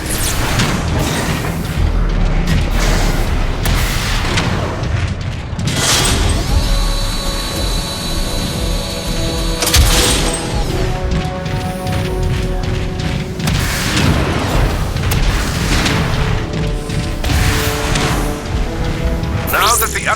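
Artillery fire in the Transformers: Fall of Cybertron video game, with repeated heavy booms and rumbling blasts over mechanical clanking and a game soundtrack, while characters speak at times.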